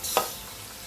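Ginger and garlic hit a hot pan for Indo-Chinese Hakka noodles, giving a brief loud sizzle burst with a stirring scrape that quickly settles into a steady, fainter hiss.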